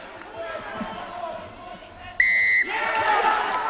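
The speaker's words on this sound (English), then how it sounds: "The loud blast of the referee's whistle." During a rugby match between Hartpury College and Gosforth Academy, a referee's whistle gives one loud, steady blast of about half a second over crowd and commentary noise, and then the crowd swells.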